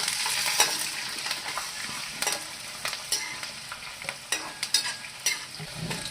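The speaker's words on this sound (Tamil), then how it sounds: "உள்ள வெங்காயம் வந்து நல்லா வதங்கணும், இந்த பச்சை வாடை போகிற வரைக்கும்" Onions and curry leaves sautéing in a pan with urad dal, chana dal and cashews for rava upma: a steady close sizzle with repeated scraping stirs of a spoon against the pan, and no voices.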